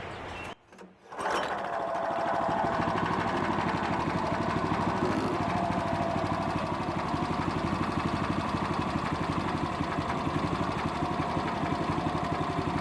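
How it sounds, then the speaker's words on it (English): After a brief pull and sputter, the small gas engine of a Harbor Freight sawmill starts and settles into a steady, rattling idle, close by and continuous. "turn the engine on, turn the choke, we pull the starter."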